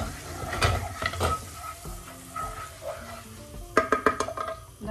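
Spoonful of rendered fat sizzling in a hot pan while an autumn salad dressing is made, a steady crackle with scraping stir strokes and a burst of sharper spattering near the end.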